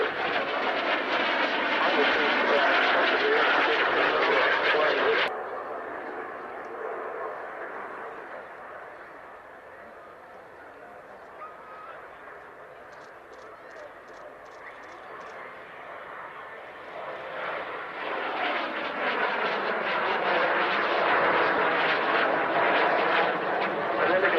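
A BAC Jet Provost jet flies a display, heard as a loud jet roar that drops away, quietens for several seconds, then swells back as the aircraft returns on another pass.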